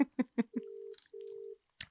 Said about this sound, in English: Nice different ringtone.